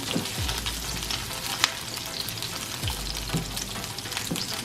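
Beans and onions sautéing in hot oil for a vegan meal, a steady close sizzle with scattered sharp pops and occasional stirring scrapes, no voices.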